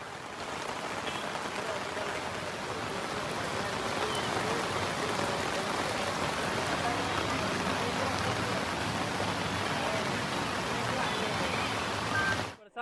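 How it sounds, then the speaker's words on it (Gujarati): Heavy, incessant monsoon rain pours down in Surat, Gujarat, a dense, steady roar of drops hitting surfaces that continues evenly throughout. "વરસાદ પડી રહ્યો છે"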